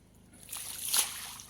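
Water splashes and sloshes as it is poured out of a bucket, building to a brief peak of splatter before trailing off.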